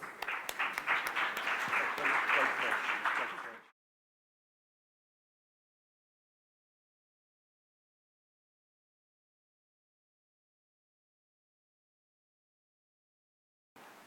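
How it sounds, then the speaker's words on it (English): Audience applause welcoming panelists to a banking data and AI panel discussion, a dense burst of clapping for about three and a half seconds that stops abruptly into silence. "Please help me welcome them with a huge round of applause"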